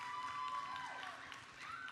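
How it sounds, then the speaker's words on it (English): Audience applause and cheering for visiting glass artist Laura Donefer at the Museum of Glass hot shop studio, a steady wash of clapping through the whole moment, with a few voices rising over it. "give her a big round of applause"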